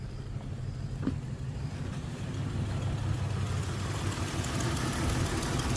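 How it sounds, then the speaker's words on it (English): A Toyota V6 engine in a 1991 Winnebago Warrior idles steadily with a low, rough, rumbling exhaust note that grows slightly louder, a faint rattly racket from an exhaust leak beneath the drone. "The V6 runs real good. It's got an exhaust leak on there somewhere, so that makes a little bit of racket."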